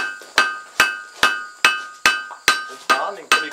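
Mild steel and a piece of rasp being forge welded with a hammer on an anvil: eight evenly spaced, loud, ringing metallic blows, each with a bright clang that decays before the next strike.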